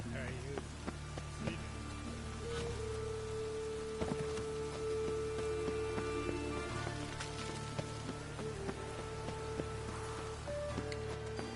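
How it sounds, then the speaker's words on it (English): Rain falls in The Witcher 3 as a faint, steady patter on surfaces, low and continuous beneath game sounds and talk. "Looks like rain."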